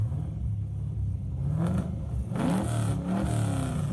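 An engine-swapped Nissan 350Z revs in short bursts, a deep rumbling engine rising and falling a couple of times at moderate distance, with no speech over it.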